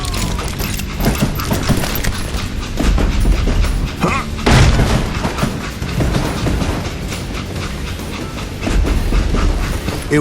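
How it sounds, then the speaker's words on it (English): A video game train in Call of Juarez: Gunslinger rumbles steadily along the rails with rhythmic clatter, loud and close, with a heavy thump partway through. "It was then that Jesse detached the express car from the rest of the damn train."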